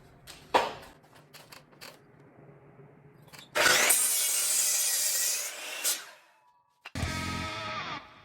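A handsaw cuts square 90-degree ends on 3.5-inch wood blocks with steady rasping strokes, close and clear, after a few sharp taps and knocks. One long sawing run is followed by a second burst.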